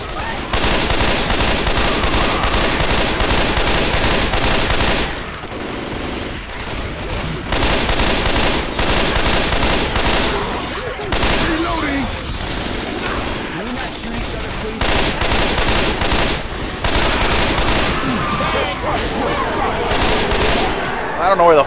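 Left 4 Dead 2 survival gunfire, loud and close, fills the scene in long rattling bursts of automatic fire with brief lulls between volleys, stray shouts buried in the din.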